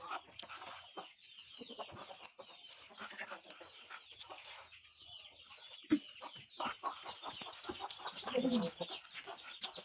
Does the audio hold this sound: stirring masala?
no